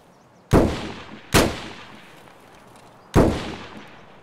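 Video-game gunfire sounds as three loud, sharp shots, the first two about a second apart and the third after a longer pause, each with a booming decay, and no talk over them.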